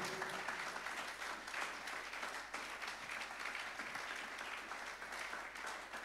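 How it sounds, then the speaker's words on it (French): A church congregation claps together during a worship service, a dense, sustained wash of many hands applauding at a fairly distant, even level for the whole stretch, with no clear speech over it. "Give a loud clap."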